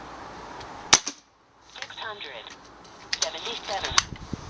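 Kral Puncher N-07 air rifle fires a single sharp crack up close, followed after a pause by mechanical clicks and rattles of the action being worked, with faint room noise.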